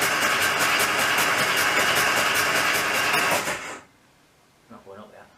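Classic minivan engine cranking over on its first start-up after a restoration, a loud steady rhythmic churn that cuts off abruptly, followed by a brief faint voice.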